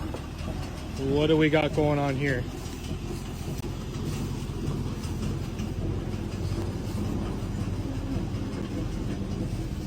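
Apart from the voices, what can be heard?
old train moving on rails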